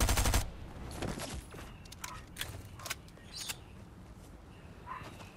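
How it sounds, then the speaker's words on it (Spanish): Gunfire in a Fortnite match, a burst of shots at the start followed by scattered single reports and crackles at middle distance, with no talking. "¡Me están disparando por otro lado!"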